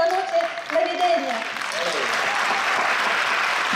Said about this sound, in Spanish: fuertísimo aplauso a ese presentador tan bueno